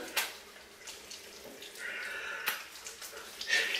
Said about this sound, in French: Donc juste je rince mes mains